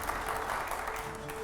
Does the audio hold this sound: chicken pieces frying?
no